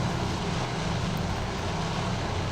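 Steady broadband engine drone of aircraft flying in waves over a naval battle in a Pacific war video game, continuous and even throughout with no talking.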